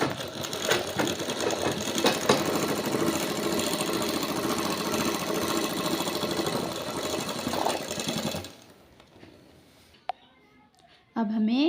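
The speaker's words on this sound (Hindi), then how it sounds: "यहाँ से यहाँ तक हमें सिलाई करनी है इस तरह से।" A sewing machine stitches a trouser pocket, running steadily and close for about eight seconds before stopping, leaving faint room sounds.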